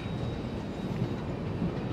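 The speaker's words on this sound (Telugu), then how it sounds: "జస్ట్ స్టేషన్ లోపలికి వెళ్ళడం ఆలస్యం, అందుకే ట్రైన్ స్లో అయింది" Bhagyanagar Express slowing as it enters Bibinagar station, a steady low rumble of wheels and coaches with faint clickety-clack, continuous and even.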